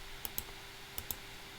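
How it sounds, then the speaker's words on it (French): Two quick pairs of clicks sound from a computer keyboard being typed on, close and fairly quiet over a soft steady hum. "Je tape ici Ardour."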